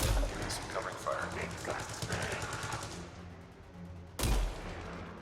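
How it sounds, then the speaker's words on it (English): Covering gunfire in a video game, with rapid bursts of shots under a dense battle din, then a single sharp loud report near the end. "Some covering fire."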